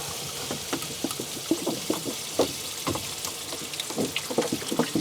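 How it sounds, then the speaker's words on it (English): Water poured from a jug into the water pan of a smokehouse cooker at a barbecue cook event, a faint, uneven splashing and trickling with small gurgles, heard alone without talk. "I didn't fill my water pan up last time."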